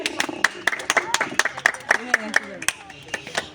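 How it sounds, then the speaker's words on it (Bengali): An audience at a village boys' game claps in quick, steady rhythm, sharp and close, while someone talks loudly over the clapping. "সকলে জোরে হাততালি"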